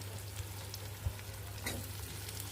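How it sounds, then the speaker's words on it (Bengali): Potatoes and onions fry in a pan while being stirred, giving a soft, steady sizzle with an occasional faint scrape. Quiet and continuous, no voices. "তার সাথে এবার আলু দিয়ে পেঁয়াজগুলো আবারও নাড়াচাড়া করে নিলাম"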